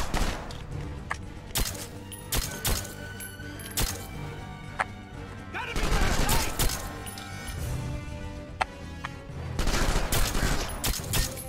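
Gunfire in the 007 Quantum of Solace video game on PS2, repeated sharp shots and bursts in irregular clusters, loud and close throughout, with a voice talking between them.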